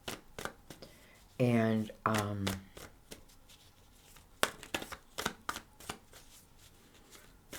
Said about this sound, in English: I'm just going to shuffle a little bit.